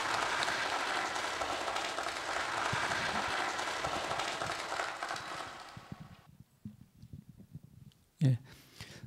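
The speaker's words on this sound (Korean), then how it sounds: "다 같이 박수로서 발표를 청해 듣도록 하겠습니다" Audience applause at an academic conference hall, steady and full for about six seconds before fading into scattered claps and a brief sharp thump.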